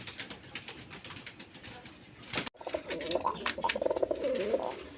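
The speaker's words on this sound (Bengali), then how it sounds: "বন্ধুরা এখানে একজোড়া মক্ষী কবুতর আছে" A pair of jet-black Mokkhi pigeons kept with eggs coo close by. The low, throaty calls come in repeated bursts, growing stronger after a brief gap midway, with faint voices in the background.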